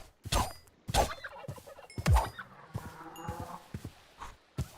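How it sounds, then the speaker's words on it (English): A crake bird calls in the RLCraft survival game, sounding as harsh, repeated croaking bursts spaced about a second apart, fairly loud and close, with some faint game noise between them. "I hear a crake."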